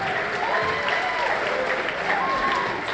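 Guests at a Lebanese and Italian wedding reception applaud the bride and groom's entry, sustained clapping with cheers and whoops mixed in and voices talking faintly beneath.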